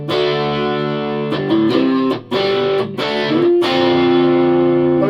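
An electric guitar played through a multi-effects unit sounds sustained, heavily distorted chords and bends, loud and close, with brief pauses between phrases.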